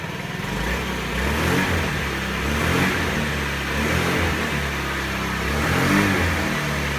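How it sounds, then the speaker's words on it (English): Honda Ruckus scooter engine running after a fuel pump replacement, revved in a few gentle swells over a steady idle, moderately loud and close, with no talking. "let's give her some gas and see what it does"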